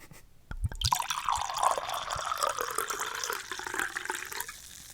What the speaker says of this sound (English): Hear those bubbles?